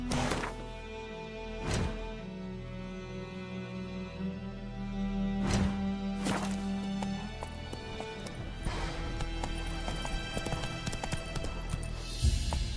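Horse hooves in The Witcher 3: Wild Hunt, a steady clip-clop gallop with sharp, loud hoof strikes every second or two, carried over a sustained musical drone.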